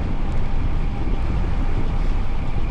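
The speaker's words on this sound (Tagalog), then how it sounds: "Sobrang lakas ng hangin." A strong headwind buffets the microphone during an easy bike ride along a bike lane, a loud, continuous roaring rumble with no voices in this stretch.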